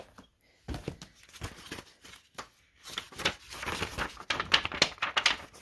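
Thin paper sheets from a paper pad being flipped, a series of dry rustling flutters and crisp ticks that grow denser toward the end, close and moderately loud.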